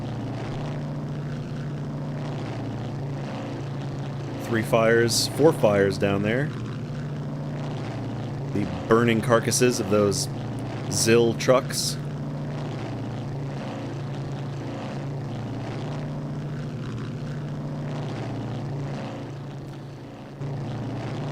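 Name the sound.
B-26K Counter Invader propeller plane in video game Strike Fighters 2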